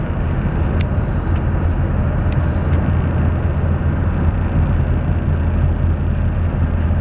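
A boat engine crossing the sound toward Cape Hatteras, a constant loud low rumble with wind and water wash, steady throughout with no talking.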